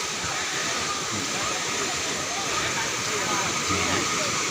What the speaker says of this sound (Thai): นี่ได้มีน้ำตกไหลลงมาแบบนี้